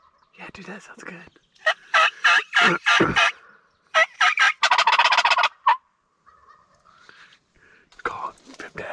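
A wild turkey gobbles loudly and close by during a turkey hunt, in a string of rapid, rattling bursts, then a short pause before more faint calling.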